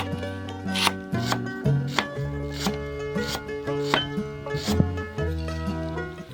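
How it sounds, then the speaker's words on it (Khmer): A knife thinly slices lemongrass stalks on a cutting board, making a steady series of crisp, close chopping taps over background music. "តាមទៀតនេះខ្ញុំមកហាន់គល់ស្លឹកគ្រៃចំនួន2គល់ហ្នឹងឲ្យស្ដើង"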